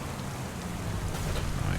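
Heavy, steady downpour in the farming game Farming Simulator 25, a dense continuous hiss of torrential rain that swells slightly louder toward the end, with no voices.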